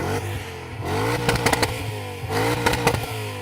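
A deep, rumbling BMW E39 M5 engine revs repeatedly, climbing in pitch with crackling bursts between pulls, loud and close with no talking.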